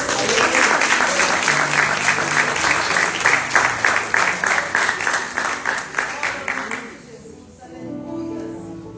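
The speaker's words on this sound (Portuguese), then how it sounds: "Aplauda o Senhor por gentileza" A church congregation at a Portuguese-language celebration service applauds loudly and continuously for about seven seconds before the clapping drops away, leaving a quieter hum of voices.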